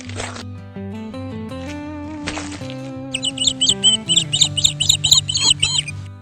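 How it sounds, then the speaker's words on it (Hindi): Chirping bird calls in a cartoon forest come in quick repeated bursts over a steady musical background, bright and close, growing busier toward the end. "पेड़ों की सरसराहट और पक्षियों की आवाजें उसे हर दिन की तरह परिचित लगीं"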